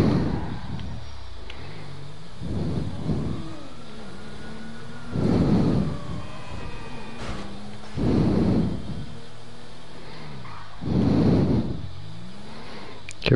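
In Grand Theft Auto Online, a car engine surges in repeated revving bursts, about five roaring pulses a couple of seconds apart, each swelling and falling back to a quieter idle.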